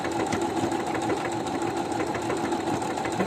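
Close, steady whirring of a sewing machine sewing a zigzag stitch, needle strokes rattling in a fast, even rhythm throughout.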